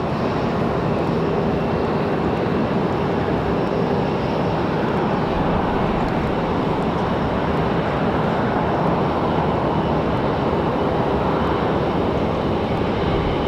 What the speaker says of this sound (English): Love watching the arrival of the ATR